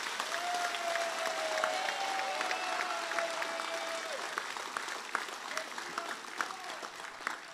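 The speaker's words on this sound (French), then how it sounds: "un grand applaudissement" Veterans at a political conference applaud in a sustained burst of dense clapping, with a faint whistle-like tone running through the early part.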